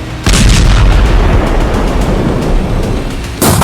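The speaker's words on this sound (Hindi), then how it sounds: "जब हिजबुल्लाह के ठिकानों पर इजरायल का बम गिरता है तो धमाका बड़ा होता है" Heavy booming blasts from bomb strikes on a Lebanese village roar loud and sustained, a dense rumbling wall with a fresh burst near the end.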